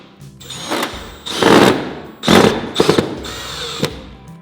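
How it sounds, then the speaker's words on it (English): A power drill drives a screw into a Max-Rib exposed fastener metal roof panel, with several short bursts of whirring and rattling metal separated by brief pauses. "Screw it in."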